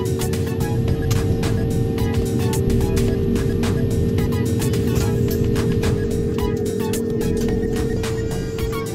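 Steady engine drone and a sustained tonal whine from an Airbus A220-100 as its engines run and the jet begins taxiing toward runway 04, with constant loud rumble and intermittent clicks and rattles inside the cabin.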